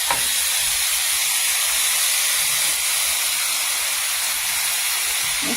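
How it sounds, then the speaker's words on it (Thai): Chicken stir-fried with fermented bamboo shoots, oyster sauce and seasoning powder sizzles loudly and steadily in a hot pan, a dense bright hiss without break, close up and alone. "ผัดให้เข้า"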